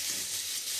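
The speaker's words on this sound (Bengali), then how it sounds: "এবার আমি সুন্দর করে আমি কষিয়ে নেব" Spices sauté for a Bengali bhola fish curry in a pan, a soft, steady close sizzle with hissing and no voices over it.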